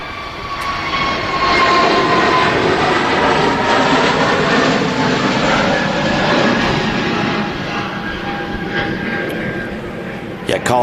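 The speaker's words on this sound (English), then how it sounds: "EasyJet has departed off to Tenerife, the A320 Neo." An EasyJet Airbus A320neo departs for Tenerife, its engine roar swelling loud and steady with whining tones, then slowly easing, while someone talks over it.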